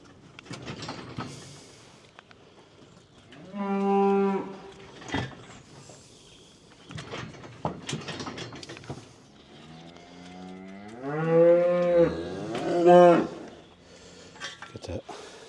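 Heifers and cows being treated for lice and tagged on a farm, with two loud drawn-out moos standing out among scattered nearby clatter and brief human voices.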